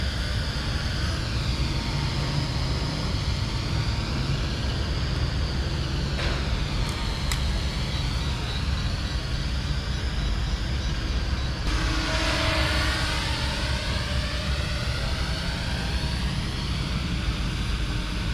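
A small camera drone hovers and flies outdoors in gusty wind, its motors a steady, loud, high buzz whose pitch shifts as it works against the gusts, with rumbling wind noise throughout.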